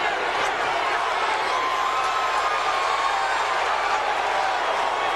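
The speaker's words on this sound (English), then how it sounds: "The crowd's encouraging him." Arena crowd at a heavyweight boxing match (Larry Holmes vs Eric Butterbean, 2002) roaring steadily in encouragement, a dense continuous wash of cheering that holds at an even level throughout.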